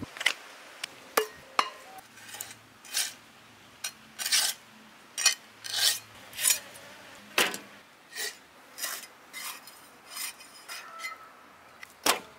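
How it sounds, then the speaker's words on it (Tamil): A knife chops stingray into long strips on a board, making a sharp rhythmic series of close, distinct cuts and knocks with short gaps, loud and with no talking. "முதல்ல திருக்க மீனை கட் பண்ணிப்போம்."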